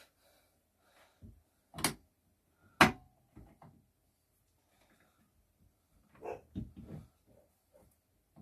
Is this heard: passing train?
no